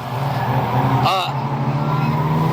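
A race car spins out on the Bovingdon Raceway oval, tires squealing in a brief wavering screech over the steady roar of engines, with a commentator talking throughout.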